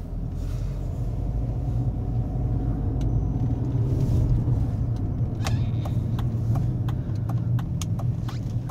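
A 2005 Audi A4 cabriolet with a 1.8-litre turbo engine is put in drive and pulls off. Its steady low engine rumble is close and fairly loud, and light ticks and clicks come in over the second half.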